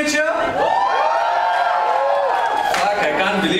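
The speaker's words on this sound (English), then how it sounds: "I can't believe you snobbish fuckers actually cheered." Audience at a Mumbai comedy show cheering and whooping, a loud burst of crowd shouts mixed with a voice speaking over it.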